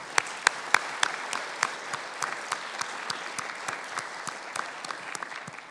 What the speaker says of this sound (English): Can everyone lead me in an applause to thank them?